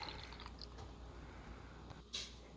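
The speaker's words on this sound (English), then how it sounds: "I pour 3 packets into the 8-ounce bottle and fill the bottle with water." Water running into an 8-ounce plastic squeeze bottle holding dye packets, a faint, soft liquid trickle and gurgle with small drips, ending in a brief sharper splash or clatter.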